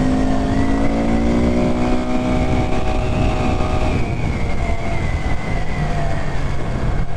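A Honda Grom motorcycle carrying a passenger runs at a steady, loud engine drone, its pitch gently shifting as the rider holds speed, with wind and road noise throughout and no talk.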